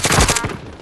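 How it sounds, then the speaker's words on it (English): Gunfire in the shooter Call of Duty: Modern Warfare, a short loud burst of rapid shots that quickly dies away. "They keep firing back."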